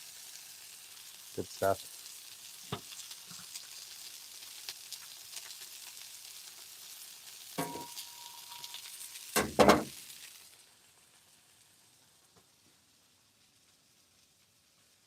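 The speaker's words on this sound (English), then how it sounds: "let's give these burgers a flip" Burgers on a griddle sizzle softly after being flipped, with a few sharp spatula clanks and a brief spoken remark, before the sound fades away to near silence.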